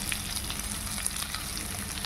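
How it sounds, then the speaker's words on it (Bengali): Onion and egg frying together in a pan, a soft continuous sizzle and crackle with faint scattered pops, close and fairly quiet, no voices. "পেঁয়াজটা ভাজতে থাকি"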